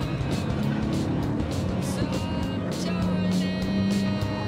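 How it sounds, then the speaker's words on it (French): A car accelerates hard down a race-track straight with a loud, continuous engine drone filling the cabin, while a voice talks over it. "Allez, accélère à fond pour la ligne droite"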